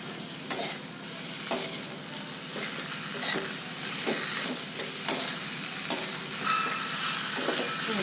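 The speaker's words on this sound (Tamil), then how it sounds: "இதெல்லாம் நம்ம வந்து நல்லா வதக்கிடுவோம்." Washed chayote peel sautés in a pan, giving a soft continuous sizzle with sharp spatula taps against the pan roughly once a second, and no one speaking.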